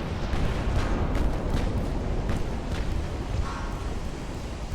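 Main guns on a light cruiser fire in the naval battle game Ultimate Admiral: Dreadnoughts, heavy rolling booms that blend into a continuous low rumble with a few sharper cracks.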